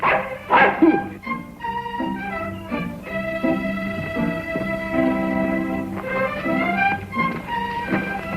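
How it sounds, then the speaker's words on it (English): A dog barks, yips and whimpers excitedly in a series of short, close calls, with some tonal sounds mixed underneath. "The bad old dog."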